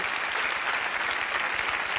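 Studio audience applause during a TV comedy show's hypnosis segment, a steady dense wash of clapping from a large crowd that fills the whole stretch at full strength, with no voices over it.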